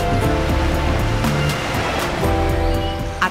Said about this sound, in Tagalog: Ang musika ng mga hampas ng alon.